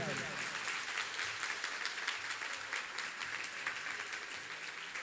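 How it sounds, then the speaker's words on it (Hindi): Sustained applause from a seated audience at a Jain sermon (pravachan) by a monk, a dense, steady clapping wash that fills the whole stretch at even loudness, with faint voices mixed in. "जो तालियां नहीं बजाएगा कैमरे में कैद हो रहा है"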